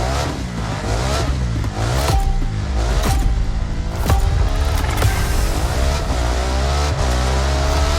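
A BMW race car engine at the start of a race in The Crew Motorfest racing game, a loud sustained roar rising and falling through gear changes, with sharp shift pops and revs layered with other engines.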